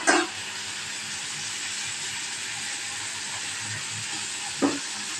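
Turkey berries sizzle and crackle steadily with salt in a hot pan, a constant frying hiss with a brief clatter at the start and another near the end.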